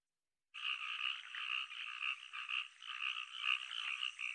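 Frog croaking in a children's song, a continuous rhythmic pulsing croak chorus that starts abruptly after a brief silence and stays steady and bright throughout.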